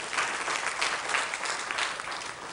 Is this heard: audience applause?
yes